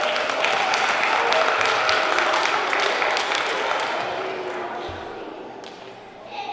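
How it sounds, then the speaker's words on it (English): School students at Saint Agnes applaud a magic trick, a dense, loud burst of many hands clapping together that holds steady and then slowly tapers off near the end. "give him a nice round of applause"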